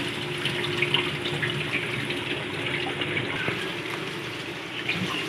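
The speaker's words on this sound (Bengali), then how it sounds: "মাংসটা আরও একবার ভালো করে ধুয়ে নেওয়া হচ্ছে" Meat being washed under a running kitchen tap, a steady close rush of water splashing into a sink without pause.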